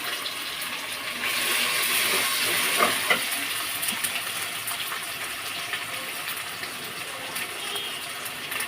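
Water is poured into a hot cooking pan holding onions, oil and ginger-garlic paste, making a rushing sizzle that swells near the start, then settles into a continuous hiss with no talking.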